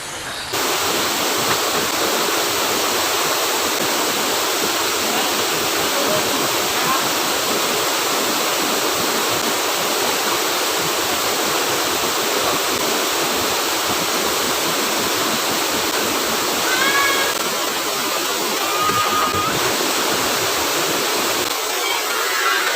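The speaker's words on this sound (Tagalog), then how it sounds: "Ito yung third layer ng waterfalls natin." Steady, loud roar of a waterfall at the third layer of a four-layer falls, rushing water filling the whole clip close by with no voices.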